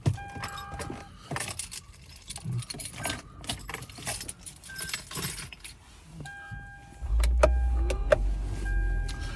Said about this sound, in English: I have to start the car.